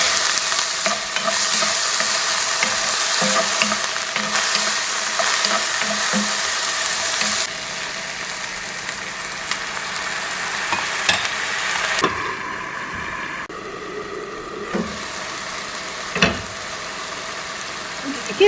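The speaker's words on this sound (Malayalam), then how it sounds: "ഇടയ്ക്കിടയ്ക്ക് ഒന്ന് നമുക്ക് ഇളക്കി കൊടുക്കാം" A snake gourd and potato stir fry being stirred in a pan Kerala style, with a steady sizzle and frying hiss under intermittent scraping of the utensil, close up, briefly quieter midway.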